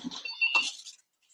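A phone ringing during a live stream, one short electronic chirping ring burst of about a second, close and clear, then silence, with no talk.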